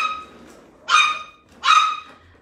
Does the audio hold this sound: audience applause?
no